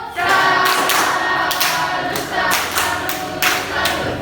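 Pupils in a classroom clap in rhythmic bursts to salute a classmate, loud and close, with repeated sharp accented claps roughly every second over a continuous patter of hands.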